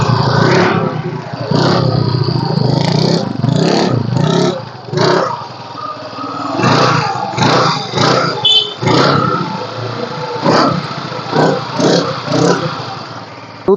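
A 2015 TVS Jupiter scooter engine runs and revs steadily and close by, its pitch rising and falling in repeated surges over the whole stretch with no voices.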